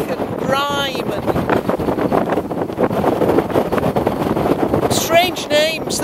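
Steady wind buffets the microphone in a low, rumbling roar on a cold hilltop throughout, with a person speaking briefly near the start and again at the end.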